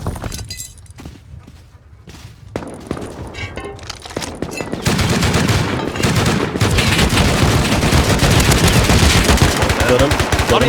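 Sustained machine-gun fire from an M2 light machine gun in the Rust video game, with rapid bursts that build into a continuous loud barrage during a fight at the excavator, mixed with sharp shattering impacts.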